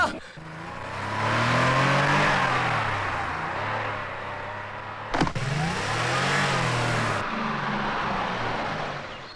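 A car engine revs in repeated rising and falling surges at moderate loudness, with a sharp click partway through and voices speaking in between.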